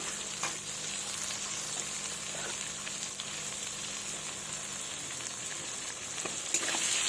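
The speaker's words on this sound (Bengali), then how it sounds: "এই তেলে এভাবে ভেজে নেব" Pieces of fish fry in hot oil in a pan, a steady crackling sizzle that carries on throughout with a few sharper pops and spits, close by and without any talking.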